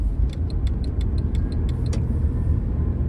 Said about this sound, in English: So I don't understand why there's so much traffic.